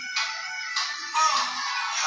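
A phone ringtone plays as a steady electronic melody for about two seconds, fairly loud and alone with no talk over it.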